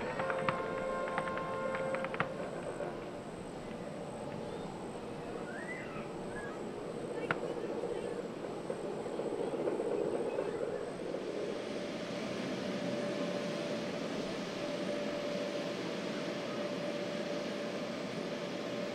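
U.S. Army Caribou transport aircraft in flight, a continuous dense engine and propeller roar that stays steady for the whole stretch, slightly muffled and broadcast-like, with a faint tonal whine above it.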